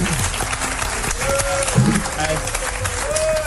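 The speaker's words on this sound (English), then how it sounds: "I can't believe they're giving her a clapping ovation." Applause from a debate audience, dense clapping heard close with crowd murmur and a few voices talking over it.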